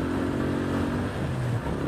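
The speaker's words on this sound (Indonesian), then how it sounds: "Wah, ada bis itu." A mid-size bus passes on a paved road cut through a hillside along the Gunung Kidul coast, its steady engine drone loud and close, then the pitch slides down as it goes by.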